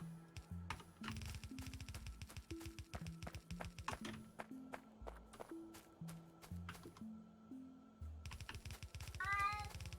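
A cat gives a short rising meow near the end, over busy rapid clicking and clattering machine noise.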